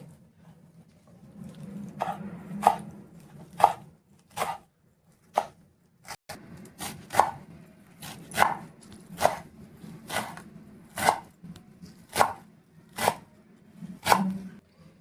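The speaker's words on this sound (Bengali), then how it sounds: "তো এই যে বেথো শাকটা নিয়েছি, এবার এটাও কেটে নেব" A knife chops bathua greens finely on a board, with a dozen or so sharp, evenly spaced strokes at a steady rhythm, close and clear with no talk.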